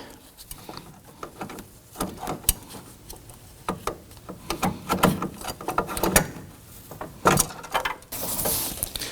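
Pliers working a spring clamp on the passenger-side lower radiator hose of a 2018-2024 Toyota Camry 2.5L four-cylinder give close, irregular metallic clicks, scrapes and ratcheting snaps in scattered bursts.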